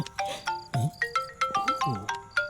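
A mobile phone ringtone playing a bright, fast electronic melody of short repeated notes in an even rhythm, clear and close, with no speech over it.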